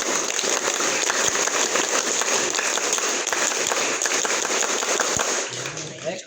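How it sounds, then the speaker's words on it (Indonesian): Pupils at a Scout Day ceremony perform the Scout clap, a crowd of hands beating out rapid patterned clapping that stays loud and busy before stopping abruptly near the end. "Dua kali tepuk pramuka."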